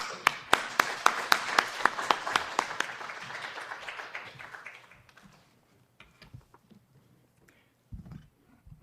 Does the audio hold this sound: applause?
yes